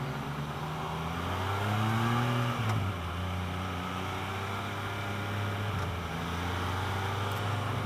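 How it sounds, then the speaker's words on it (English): A 2015 Can-Am Spyder F3-S three-wheeler pulling hard through third gear, its engine drone rising steadily in pitch, dipping briefly at a shift, then climbing again under steady wind roar. "Great acceleration through third here."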